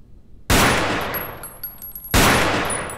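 Two loud, sharp gunshots at shooting practice, spaced about a second and a half apart, each with a long decaying reverberant tail and a faint high ringing tone between them.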